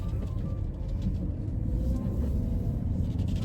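A 1997 Mercedes E320 W210 sedan with about 70,000 miles on a test drive, heard as a steady, close, low rumble of engine and road noise from inside the car, constant throughout with no talking.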